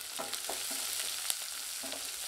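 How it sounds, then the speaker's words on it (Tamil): Finely chopped onions sauté in a hot pan with a soft, steady sizzle and a few faint stirring knocks, quiet and close. "இதை சேர்த்து வதக்கி விட்டுக்கலாம்."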